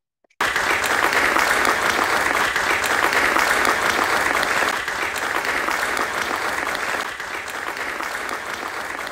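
Sustained applause from an audience at a Constitutional Court annual public address, steady and dense clapping that continues throughout and eases slightly toward the end.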